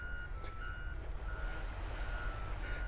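Reversing trucks on a beach in North Naples, Florida, beep steadily and repeatedly over a constant low engine rumble, heard from a moderate distance.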